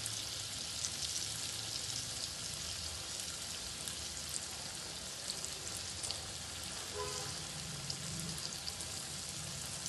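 Whole pomfret frying in hot oil on a leaf over a low flame, a steady soft crackling sizzle throughout, faint and close, with no talk.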